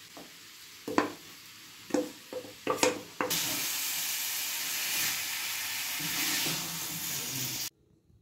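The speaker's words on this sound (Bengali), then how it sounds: "আগে যে চিকেনটা করে রেখেছিলাম ওই চিকেনটা একবার গরম করে নিচ্ছি।" Precooked chicken is reheated in a pan: a few sharp knocks and scrapes come first, then a loud, steady sizzle that hisses continuously for several seconds before cutting off.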